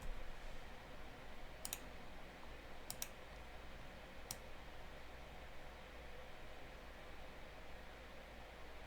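A computer mouse clicks a few times, sharp and close, with single and double clicks spread over several seconds against a faint steady hiss, and no talking.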